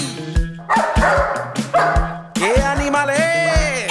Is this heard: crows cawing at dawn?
no